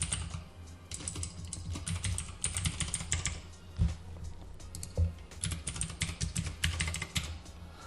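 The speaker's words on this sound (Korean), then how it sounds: "자, 아이디 입력을 해보겠습니다" Keys tapped on a computer keyboard while a login ID is entered, a quick irregular burst of close, crisp clicks running steadily through the whole stretch with no voices.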